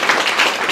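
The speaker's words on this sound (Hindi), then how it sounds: "अगर कोई बात अच्छी लगे तो बीच बीच में ताली बजा सकते हो" An audience claps together at a marketing seminar, a dense and loud burst of applause filling the room throughout the brief moment.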